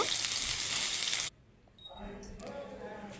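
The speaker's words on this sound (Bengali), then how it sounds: "এরপর আলু সয়াবিন ভালো করে ভাজাভাজি করে আমি নামিয়ে নেব" Potato and soybean chunks fry loudly in a pan with a dense sizzle that cuts off abruptly, then a quieter crackle resumes with light stirring.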